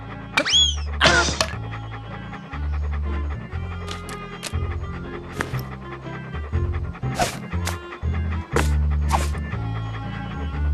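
Dog in the Monkey Island 2: LeChuck's Revenge Special Edition video game, panting and yelping in short bursts over steady game background sound.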